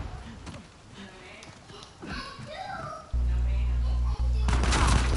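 Gunfire in Uncharted multiplayer: scattered shots and bursts early on, then a loud, steady low hum that takes over the second half.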